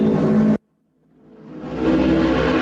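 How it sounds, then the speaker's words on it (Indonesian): A motorcycle engine on a street near a town square revs hard, cuts out abruptly, then builds back up in a rising roar that settles into a loud, close, steady drone. "Nah, suara motor. Suara motor, bro."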